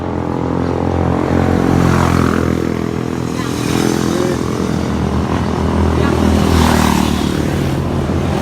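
A continuous, loud roar of a motorcycle caravan passing close by at a market in Pha Hom, Vang Vieng, engines rumbling and revving as a steady stream goes past.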